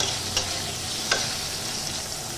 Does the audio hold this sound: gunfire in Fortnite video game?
no